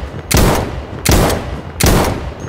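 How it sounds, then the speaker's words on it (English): Three loud, close rifle shots crack out in a steady rhythm in Insurgency: Sandstorm, each blast sharp and booming with a brief ringing tail. "even firing the 50 cal rifles in the game will blow out your ears"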